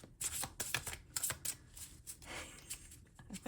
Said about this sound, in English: I might have to edit out a lot of the shuffling.